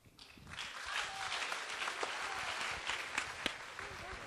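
Audience applause for performers at the opening of a psychology festival, a dense, steady clapping that swells quickly and holds loud throughout, with scattered voices in the crowd.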